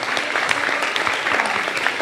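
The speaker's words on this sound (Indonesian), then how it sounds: "Tepuk tangan." An audience at a gathering with Pope Francis breaks into loud, dense applause, a steady patter of many clapping hands.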